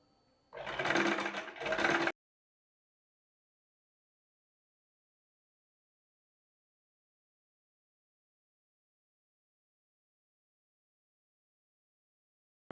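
A sewing machine stitches the lining of a round neck. A loud, close run of rapid stitching lasts about a second and a half, then silence follows and a brief jolt comes at the very end.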